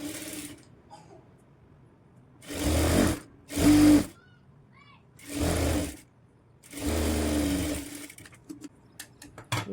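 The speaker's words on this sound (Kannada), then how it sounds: "ಹಾಫ್ ಇಂಚು ಕೆಳಗಡೆ ಸ್ಟಿಚ್ ಮಾಡ್ಕೋತೀನಿ" Short bursts of a sewing machine stitching a Madhubala blouse, four loud, close whirring runs of a second or two each, separated by quiet gaps.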